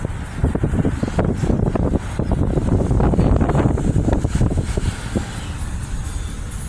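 A car drives through Lahaina on Maui, Hawaii, giving a steady close rumble of engine and road noise with gusting wind buffeting the microphone throughout.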